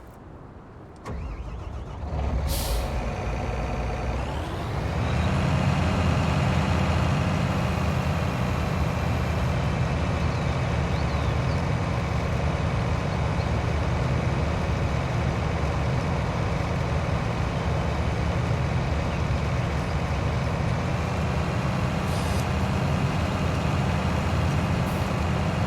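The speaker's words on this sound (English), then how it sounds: "there he goes with his purple truck" A purple truck in Farming Simulator 19 starts up with a short crank and then drives with a steady, loud engine drone that holds for a long stretch, with a faint hiss partway through.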